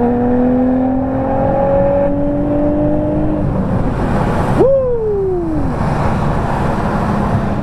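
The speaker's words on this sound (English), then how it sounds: "Do a little second gear pull here." An Infiniti G35 with a VQ V6 pulls hard in second gear, the engine whine climbing loudly for several seconds before a sharp shift blip and a falling rev sweep, heard from inside with the window open.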